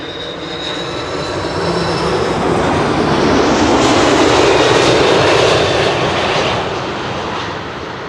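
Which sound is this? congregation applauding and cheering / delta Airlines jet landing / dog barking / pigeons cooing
delta Airlines jet landing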